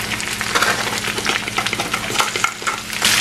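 Chopped tomatoes tipped into a hot pan and sautéed for a masala dal curry, giving a steady close sizzle and frying hiss with the clatter of stirring and a utensil scraping the pan throughout.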